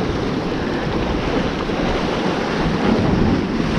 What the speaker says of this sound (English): We got wind straight in the face.